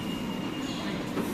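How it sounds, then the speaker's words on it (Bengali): A Malaysian LRT metro train rumbles steadily nearby, a continuous low roar with faint rail noise. "এটা হচ্ছে এই মালয়েশিয়ার এল আর টি মেট্রো রেল"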